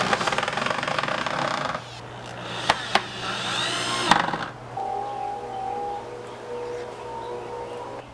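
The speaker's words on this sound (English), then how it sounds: "I screwed down the first pair of hinges" A power drill drives screws through hinges into pallet wood for a couch, loud whirring bursts with a couple of sharp knocks, then a lower, steadier motor hum with a faint whine; no speech.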